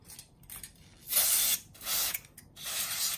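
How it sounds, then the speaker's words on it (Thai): Silicone lubricant is sprayed into a brand-new Hicapa 5.1 T-REX Force series airsoft pistol in three close, loud hissing bursts, each lasting under a second, with short gaps between them and no talking. "ก่อนไปผมขออนุญาตฉีดซิลิโคนก่อนนะ"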